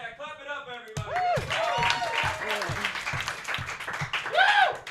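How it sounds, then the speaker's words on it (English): A comedy roast battle audience in New York claps for a comedian, a moderate burst of applause running under a host talking over it, after a short tonal sound at the very start. "So please clap it up for Priya Blunts, everybody"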